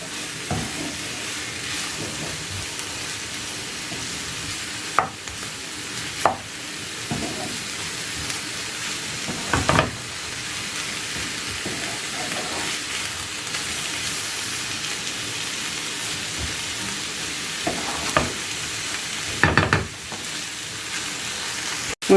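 Chicken with olives sizzles steadily in a frying pan, with a continuous bright crackle and occasional louder scrapes and clunks as a utensil stirs the pieces around.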